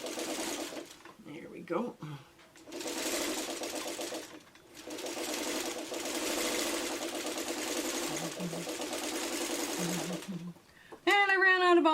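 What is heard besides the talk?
sewing machine stitching quilt pieces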